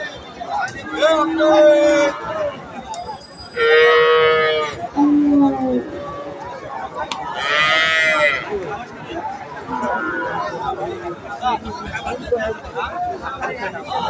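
Cows low repeatedly at a busy cattle market in Badarganj, Rangpur, several long, loud moos close by over a background of crowd chatter and people talking.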